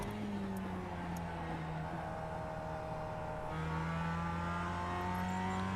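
Mazda MX-5 Cup race cars on the Circuit Park Zandvoort track, engines droning loudly and continuously, the pitch shifting as one car passes another; no voices.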